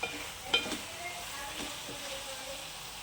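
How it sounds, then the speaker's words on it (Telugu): Potatoes, capsicum and tomato cook as a curry in hot oil, giving a low, steady sizzle with a couple of brief stirring scrapes near the start, quiet and close with no talking. "ఇలా మధ్య మధ్యలో కలుపుతూ కర్రీని ఉడికించుకోవాలి. ఇది కూడా ఆయిల్లో మంచిగా ఫ్రై అవ్వాలి."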